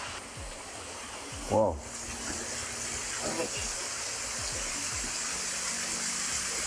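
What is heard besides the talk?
small waterfall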